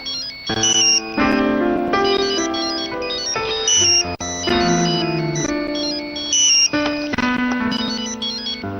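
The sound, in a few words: phone ringtone of an incoming call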